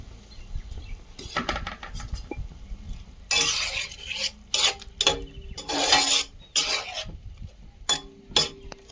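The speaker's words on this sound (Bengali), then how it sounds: "ঝোলটা ফুটেছে মাছগুলো দিয়ে দিচ্ছি" Fish is added to a pan of boiling curry gravy, with metal utensils clinking and scraping against the pan in loud, irregular bursts and brief pauses between them, close up.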